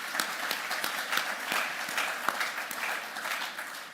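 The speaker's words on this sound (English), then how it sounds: "So let's give them a round of applause." Church congregation applauds its worship committee, a sustained wash of many hands clapping at moderate volume throughout, evenly spread and fairly near, with no talking over it.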